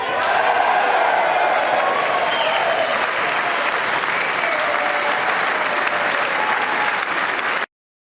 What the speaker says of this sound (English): That applause goes on for about another 60 seconds.